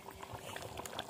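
Malvani prawn masala gravy bubbling in a pot on a wood-fired stove: a brief, faint, close burble of thick liquid boiling, with soft popping bubbles and no talk.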